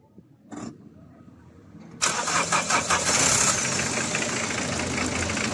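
A car engine cranks and catches, then runs loudly with a rough, steady idle; a brief high chirp sounds just before the start.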